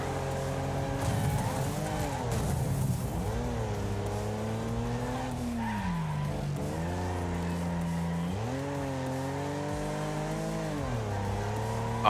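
A race car engine drones and revs in the demolition racing game Wreckfest, its pitch sweeping up and down through gear changes, loud and continuous, with tires squealing as it slides through turns.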